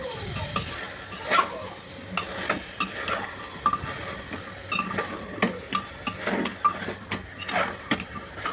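Mutton curry being stirred and sautéed in a pan, a continuous sizzle marked by frequent rhythmic scrapes and knocks of a spoon against the pan, close and fairly loud.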